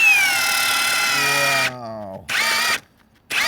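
A Ryobi 18V brushless hammer drill (P1813) set to drill mode whirs loudly at full speed for about 1.7 seconds, winds down, then gives two more short bursts with silent gaps between.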